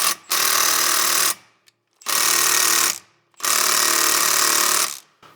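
Impact wrench hammering at a reverse-threaded CFMOTO clutch nut in three loud, close bursts of about a second each, rattling steadily with short silent pauses between them.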